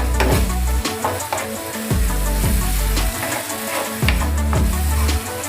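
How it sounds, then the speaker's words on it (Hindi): Masala spices cook in a pan for a matar butter paneer dish, giving a close, continuous sizzle and bubbling frying sound with repeated scraping stirs of a spoon. "अभी धीरे धीरे बबल्स उठ रहे हैं, मसाला पक रहा है"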